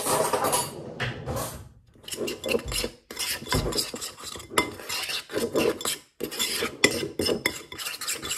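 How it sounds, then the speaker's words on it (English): A spoon scraping and clinking against a bowl as ingredients are mixed, in irregular bursts with short pauses between strokes, close and moderately loud. "Get a spoon and give it a mix."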